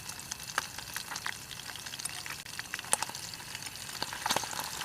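Eel frying in hot oil at a forest campsite, a dense steady sizzle peppered with sharp irregular pops and crackles, close and moderately quiet with no voices.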